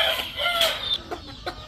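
Chickens cluck in a farmyard at close range, with several sharp calls and a rooster crowing in short bursts.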